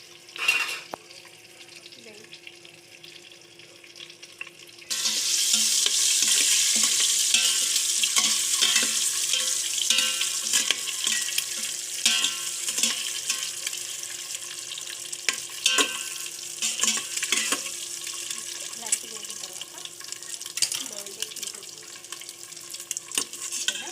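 Vegetables frying in a pan and being stirred: a quieter opening, then a loud continuous sizzle with frequent clinks and scrapes of the spoon against the pan, close and sustained throughout.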